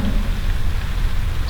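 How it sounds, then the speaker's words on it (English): Rain beginning to fall at a mountain homestead building site, a brief, fairly loud patter and rumble with no voices. "Starting to rain."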